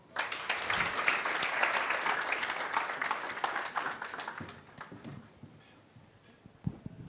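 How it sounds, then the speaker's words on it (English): An audience at an alumni event gives a round of applause, a fairly distant wash of clapping that builds briefly, then thins and fades to a few scattered claps. "I think she deserves a better round of applause than that."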